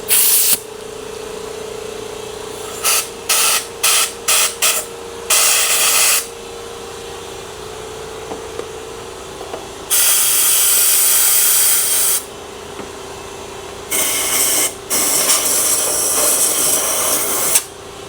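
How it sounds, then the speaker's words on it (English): Bursts of hissing air stop and start repeatedly, some short and some lasting a couple of seconds, over a steady low mechanical hum while an air compressor fills up during a Dyson Ball vacuum repair. "Air compressor's filling up."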